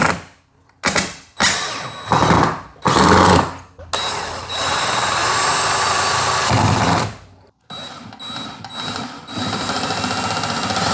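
A power tool whirs and ratchets as screws are driven to wedge a power supply against a wall, with loud close bursts of a few seconds each, then a longer steady run, separated by short pauses.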